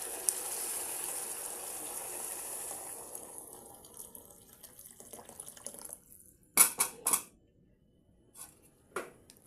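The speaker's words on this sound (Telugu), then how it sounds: "ఇంకా మనకు ఎంత వాటర్ కావాలో అంత వాటర్ పోసేసేయాలి" Water gushes steadily into a pan of fried lentils, then tapers off, followed by a few clattering knocks and drips in near silence.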